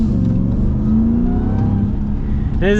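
A Ram TRX pickup truck engine revs up close and loud, pitch climbing and settling in a sustained roar, with a quick higher rev burst at the end.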